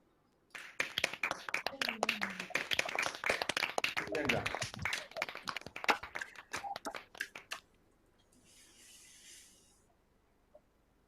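Graduates of a law and politics school unmute on an online call and clap for each other, a burst of dense, close, uneven clapping for several seconds that stops abruptly, followed by a short faint cheer.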